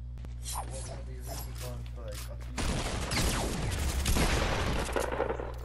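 Bursts of rapid gunfire crackle through a Fortnite match, a loud fusillade erupting midway and continuing to the end, while a voice talks over the opening part.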